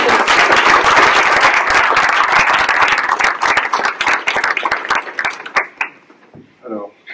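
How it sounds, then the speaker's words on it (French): An audience at an Octobre rose cheque presentation in Guer claps in a loud burst that thins into scattered claps, after which a voice speaks briefly. "je voulais applaudir tout le monde"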